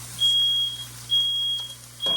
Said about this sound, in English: had to deal with that smoke detector. It's so sensitive.